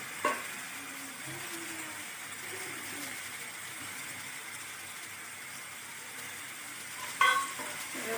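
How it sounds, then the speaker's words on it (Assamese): Spices sizzle in a hot pan while being stirred for a spinach fish curry, a steady low frying hiss with brief scraping sounds near the start and a sharper clatter toward the end. "এতিয়া আমি ইয়াতে সকলোখিনি মছলা এড কৰিম।"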